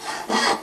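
A synthesizer imitates a hand saw with a single short, breathy rasping stroke, close and fairly loud, alone without any speech.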